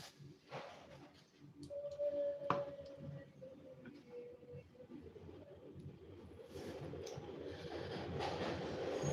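A train rumbles past at a moderate distance, its low clatter rising steadily over several seconds, with a brief tonal squeal early on; no one speaks.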